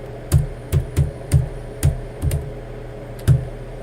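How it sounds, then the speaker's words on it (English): Typing on a computer keyboard during a live trading stream, with sharp, separate key strikes at an uneven pace, about eight clacks over four seconds, close and clear against a quiet background. "I'm typing in the wrong computer"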